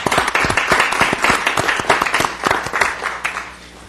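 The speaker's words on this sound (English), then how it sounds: "I think we should all give Chris a round of applause for that good job." Applause breaks out at a city council meeting, a small roomful of people clapping distinct, fairly close handclaps that swell and then taper off within a few seconds.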